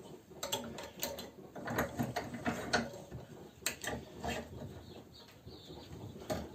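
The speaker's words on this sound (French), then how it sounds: "vous prenez un petit étau, puis vous redressez votre fil de fer" Iron wire being straightened in a small vise in a beekeeping workshop, giving a close run of irregular metallic clicks, creaks and scraping taps with no talking.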